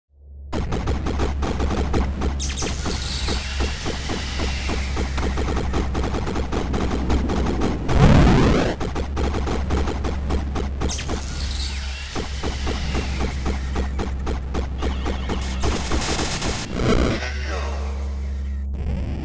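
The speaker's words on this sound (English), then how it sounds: "It was a third-person shooting game, where you can shoot opponent or spawn a sub-robot that will attack the opponent." Sustained rapid gunfire from a third-person robot shooting video game, dense automatic bursts running almost continuously at high level with brief heavier blasts, no talk.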